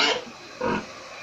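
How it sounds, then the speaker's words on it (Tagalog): A hungry pig in a backyard farm lets out a short squeal and then a louder, raspy squeal, two brief calls against quiet outdoor background. "humihiyaw na yung baboy namin. Gutom na."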